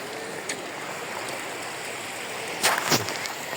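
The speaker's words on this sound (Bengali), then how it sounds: "বন্যার নদীর পানি" Floodwater in a swollen river flows with a steady, moderate rushing wash, heard alone, with a few brief splashy surges near the end.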